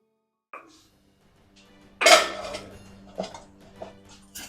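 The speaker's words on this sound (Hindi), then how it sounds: "बर्तन मांजू माँ" Dishes, pots and utensils being washed at home, heard as scattered clinks and clanks of metal, with one louder clatter among quieter knocks and no talking.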